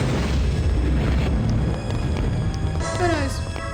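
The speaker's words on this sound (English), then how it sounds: "A lot of fire explosions. So many fire explosions." Dense, rumbling fiery blasts roll on continuously in Ultima 8 (1994), with deep booms layered over one another and a few brighter crackles near the end.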